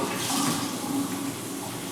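Cold tap water runs steadily from a school faucet as hands are wetted for washing, a short, even rush of water heard close up with no talking.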